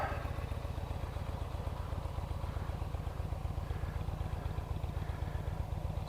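A 2018 Yamaha Eluder motorcycle idles with a steady, low, rhythmic thrum, even and moderately quiet, with a light mechanical clatter and no talking.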